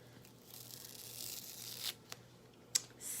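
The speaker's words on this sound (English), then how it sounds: "And now we are going to peel and reveal." A Chalk Couture transfer stencil is peeled off a wooden block, a soft continuous tearing rasp that ends with a few sharp peeling snaps, close and quiet.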